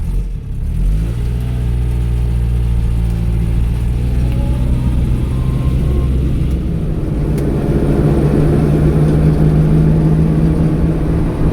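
A manual five-speed 1987 Toyota Starlet engine runs steadily with a low, loud rumble that swells as the car pulls away and drives, revving continuously with no talking.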